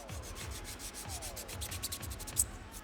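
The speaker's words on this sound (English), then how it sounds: "first I'm starting with pre-sanding at 180 grit using some emery boards" A rough 180-grit emery board rubs back and forth over a hard plastic 3D print in a quick, steady rhythm, close by with no talking.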